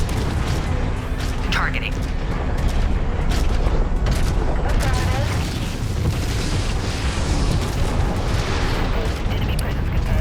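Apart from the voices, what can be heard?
explosions in video game Mechwarrior 5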